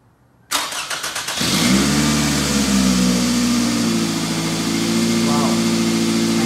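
A car engine cranks with a rapid starter whir, catches and settles into a steady, close idle that keeps running evenly to the end.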